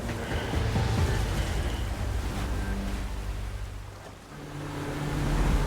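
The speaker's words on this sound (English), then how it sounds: "With the wind and waves picking up" Rough open ocean off a dive site, with wind buffeting the microphone and surf rushing in a steady, loud wash that briefly eases before swelling again.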